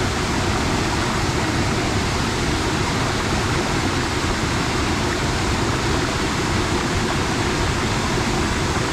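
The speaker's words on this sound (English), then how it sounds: "while the water's flowing down the rock, and then one over here on this log, and then finally one on the main part of the falls" Yannathan Falls in the Otways, water pouring over rock and a log into rapids, a loud, steady, broadband rush that stays unbroken and close throughout, with no voices.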